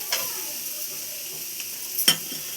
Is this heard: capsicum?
yes